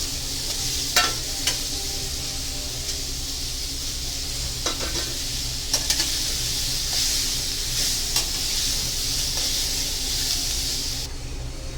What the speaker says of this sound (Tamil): அப்புறம் தக்காளி எல்லாமே ஒன்றாவே போட்டு வதக்கிடலாம்